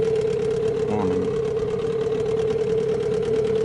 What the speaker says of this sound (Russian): Уже 22 минуты тарахтит, мотор работает.